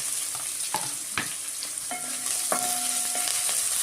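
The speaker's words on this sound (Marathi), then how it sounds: "खूप नाही परतायचा कांदा सुद्धा अगदी थोडाच परतायचा" Onion with a pinch of asafoetida sautéing in oil for a Bengali-style brinjal curry, a loud continuous sizzle broken by sharp metallic stirring clinks and scrapes against the pan.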